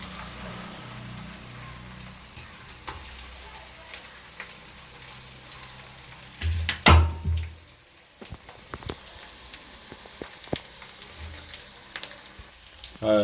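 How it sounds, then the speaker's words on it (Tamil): Crushed ginger and garlic dropped into hot oil in a pan for vegetable biryani, giving a steady soft sizzle with a brief louder burst when the ingredients go in. No talk. "இஞ்சி பூண்டு நசுக்கி வச்சுருக்கோம். ஸோ அதை நாங்கள் போடுறோம்."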